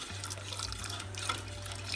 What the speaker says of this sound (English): So now we're going to add 4 cups of water.